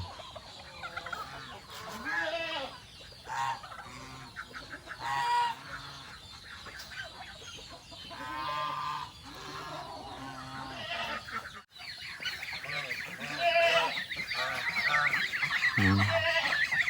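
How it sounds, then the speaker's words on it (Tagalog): Three geese, one white, honk repeatedly from close by, loud harsh calls overlapping in bursts, with some background rustling. "ating mga gansa, yung tatlong gansa natin"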